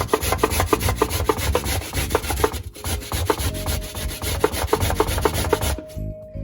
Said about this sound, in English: So I'm using the smaller part of the grater to grate my beetroot.